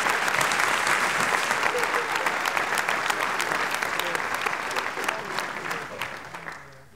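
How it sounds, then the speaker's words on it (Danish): An audience at a Danish revue claps steadily, dense sustained applause that stays full for several seconds before slowly tapering off at the end. "Vi klapper den ind, mine damer."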